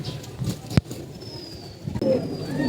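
Pigeons kept at a loft coo softly nearby, with a sharp tap or wing flick in the middle and a few thin high calls over a quiet background.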